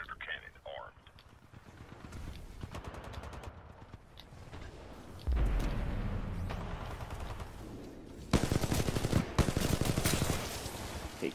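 A Titan's Predator cannon fires rapidly in Titanfall 2, dense rattling bursts of automatic gunfire that grow louder and heavier partway through, mixed with game sounds and voices.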